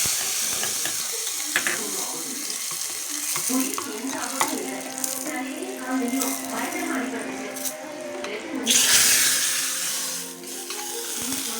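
Oil sizzles and crackles as curry leaves hit the hot pan, a steady hiss with a louder burst near the end, with occasional stirring.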